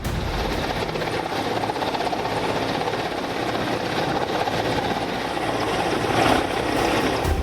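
A military helicopter drops soldiers with rifles onto a beach during a rehearsal, its rotor roar loud and continuous throughout, swelling slightly near the end.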